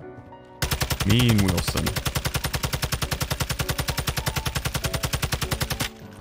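Rapid sustained automatic gunfire in Call of Duty DMZ, a fast even stream of loud shots lasting several seconds before stopping abruptly, with a brief voice heard over the start of the burst.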